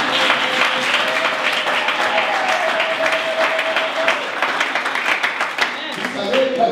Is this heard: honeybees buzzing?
no